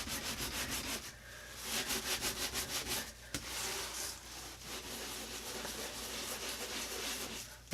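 An oven interior scrubbed with baking soda and vinegar, rhythmic rasping strokes of a scrubber close up, steady and continuous with a short pause, no speech.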